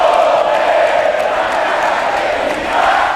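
A football crowd of nearly 10,000 at Moisés Zucarelli stadium, loud and continuous, with a dense roar of cheering and chanting and no breaks.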